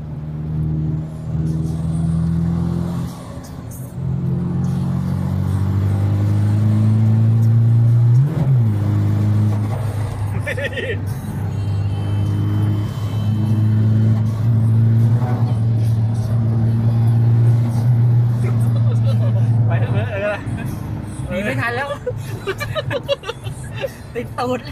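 Nissan Navara NP300 and Toyota Vigo pickup engines rev hard and sustain a loud, droning roar close by, with pitch rising and holding, while people chatter and shout over it.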